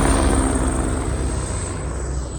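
A helicopter on the Kedarnath trek makes a steady, loud droning whir that carries on without a break and fades slightly toward the end, with no voices.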